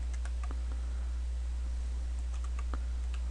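Light, quick keystrokes on a computer keyboard tap out an equation, soft and irregular over a steady low hum, with no talking.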